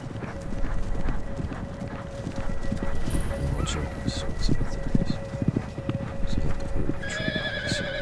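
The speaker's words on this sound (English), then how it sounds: "Why do I hear like a whole company of horses?" A company of horses moves past with clip-clopping hooves and repeated neighs and whinnies, moderately close over a busy background, with brief high tones near the end and no clear talk.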